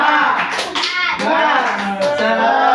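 Students in a classroom counseling session perform a 'tepuk semangat' clapping chant, young voices chanting loudly in rhythm with sharp, patterned hand claps close by.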